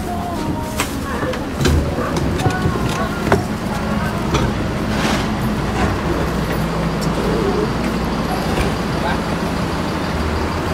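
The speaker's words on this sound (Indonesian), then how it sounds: "ini aku kasih footage bus Agramas yang aku naiki" Interior rumble of an Agramas bus on the road in Indonesia, a steady engine and road drone with occasional knocks and passing traffic, no talk heard.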